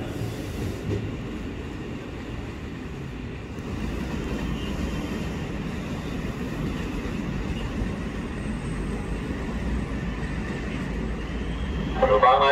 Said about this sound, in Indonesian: Jalur 11 dipersiapkan masuk kembali komuterline tujuan akhir stasiun Jakarta Kota, rangkaian terdiri dari